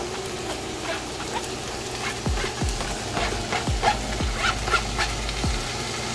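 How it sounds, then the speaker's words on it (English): A big wok of salmon chop suey vegetables stirred with a wooden spoon: a steady sizzle with a series of scraping strokes in the second half, close and fairly loud, with no talking. "my wok is so big I can't flip my vegetables, so I have to stir with a wooden spoon"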